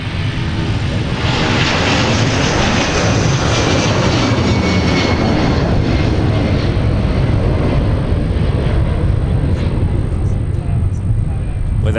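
Boeing 757 jet at Minneapolis–St. Paul airport, a loud steady broadband engine roar that stays strong and close across the whole stretch, with faint voices mixed underneath.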